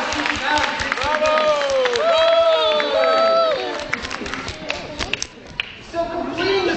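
A science-show audience at the Orlando Science Center bursts into applause and cheering, clapping mixed with whoops and excited voices, swelling briefly and then thinning out as talk and scattered claps continue.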